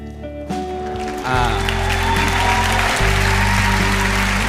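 An audience breaks into applause as a speaker shares news of still being with his partner ten years on, the clapping swelling after a second and holding steady and loud over low musical tones.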